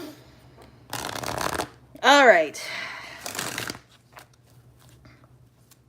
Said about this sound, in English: I think I get a good shuffle in